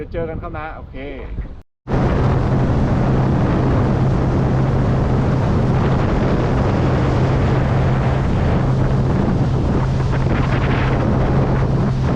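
Strong wind roaring constantly across the microphone while fishing from a boat for Thai mahseer, loud and unbroken after a brief opening with a voice, a steady engine-like hum running beneath.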